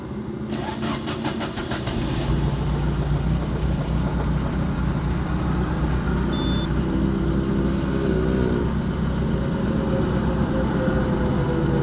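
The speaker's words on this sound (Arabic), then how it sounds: "راح اشغل السيارة مثل ما قلت، شوف العادم." A car engine cranks and starts, then settles into a steady, close idle with a constant hum that runs on without a break.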